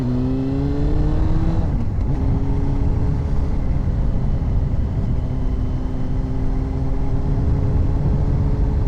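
A Honda 954 Fireblade motorcycle engine drones steadily while riding, its pitch climbing, dropping abruptly at a gear change, then holding steady under strong wind rush, loud and close throughout.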